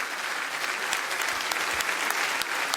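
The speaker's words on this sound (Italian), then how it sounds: "un bel applauso per il coro San Sebastiano di Teti" An audience applauds the San Sebastiano di Teti choir at a Sardinian solidarity concert in Tonara, a steady, dense wash of clapping from a crowd that continues unbroken throughout.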